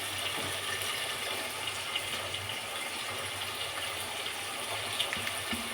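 Water pours into a pan of fried vegetables, producing a steady rushing, hissing wash of sound that stays even from start to finish.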